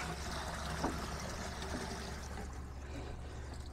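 Water strained as it runs into a goldfish tank, a steady soft wash of trickling and pouring, low and continuous, with no voices over it.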